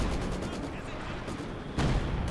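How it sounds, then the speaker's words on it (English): Mortar barrage in Company of Heroes 2, heard as a dense wash of distant gunfire and artillery rumble, with a louder impact near the end. "It's going to open up some tasty barrage opportunities for these mortars."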